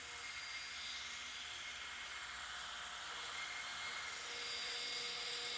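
A Roban EC130 RC helicopter flies nearby with a steady, high-pitched whine from its rotor and motor, holding even and continuous throughout.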